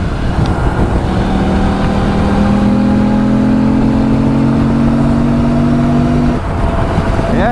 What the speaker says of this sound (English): it sounds pretty nice if you give it some gas here, some throttle. I think that's the intake sound.